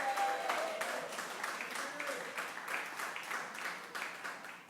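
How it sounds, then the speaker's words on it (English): Scattered audience applause at a community story night, fairly faint and a little distant, the claps irregular and fading unevenly over several seconds. "Please give a round of applause to the staff from the Cloverleaf"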